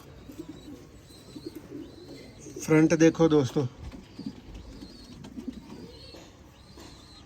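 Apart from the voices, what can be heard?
breeder pigeons cooing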